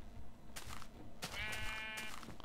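Sheep in Minecraft give two or three short, nasal bleats in quick succession, fairly close and clear over a soft background, with no talking.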